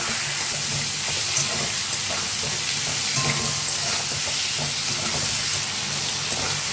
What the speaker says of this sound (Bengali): আলুগুলোকে হালকা করে ভেজে নিয়ে দিয়ে দেবো টমেটো, ভালো করে নাড়িয়ে নেব